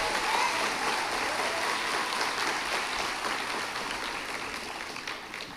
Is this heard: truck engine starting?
no